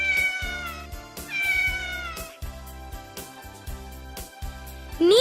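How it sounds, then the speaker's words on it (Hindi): A cat meows several times, clear rising-and-falling cries that stand out loud over a steady, rhythmic music backing, with a last sharp meow at the end. "बिल्ली।"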